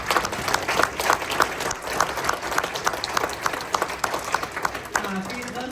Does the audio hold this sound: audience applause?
yes